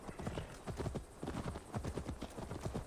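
Horse hooves clip-clop at a steady trotting rhythm in the video game Assassin's Creed Valhalla, each hoof strike distinct and fairly close, with no voices over them.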